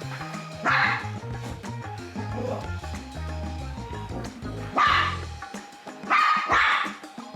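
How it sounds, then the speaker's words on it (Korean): A dog barks at a robot vacuum cleaner indoors, with three bursts of sharp, close barking and yips over the steady low hum of the vacuum. "청소기가 뒷모습을 보이자마자 달려들고 짖기 시작했다"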